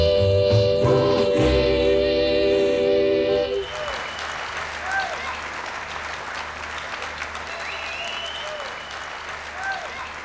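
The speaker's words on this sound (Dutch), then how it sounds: "Wat een groot applaus." A crowd at a 1994 playback show featuring a circus act breaks into loud, sustained applause that follows the end of a music track and continues steadily, with occasional voices and whoops over the clapping.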